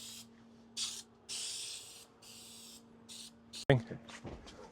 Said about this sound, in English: Spray the glue down on the wood and very carefully roll this out.